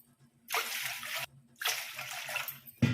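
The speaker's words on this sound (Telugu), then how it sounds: "ఆ గ్లాస్ తోటి ఇప్పుడు వాటర్ పోసుకోవాలి" Water poured from a glass into a pot of rice for cooking, two steady splashing pours of about a second each, close and fairly quiet, followed by a brief clink.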